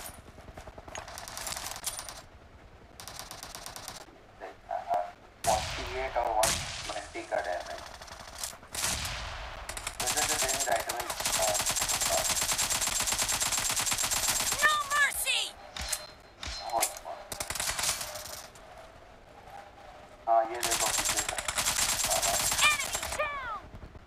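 A battle royale mobile game fires bursts of rapid gunfire, some of them long automatic volleys and others shorter cracks, with breaks between them. Players talk excitedly over the shooting.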